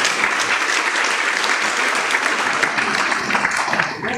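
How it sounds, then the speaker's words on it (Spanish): Dense, steady applause from an audience at a national cooperatives forum on creative industries, welcoming a singer-songwriter from Rivas; a continuous wash of many hands clapping, close and full, with no talk over it. "Recibámoslo con un fuerte aplauso, por favor,"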